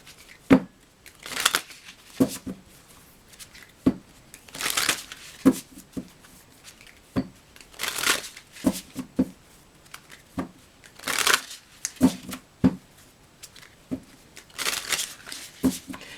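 An oracle card deck being shuffled by hand: repeated close, crisp riffling bursts and soft card taps in an irregular rhythm, with quiet pauses between shuffles and no talking.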